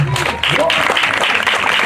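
Audience applause at the FESTIWEM 2025 festival, a dense steady wash of clapping from a crowd, loud and sustained, with a voice speaking over it at the start.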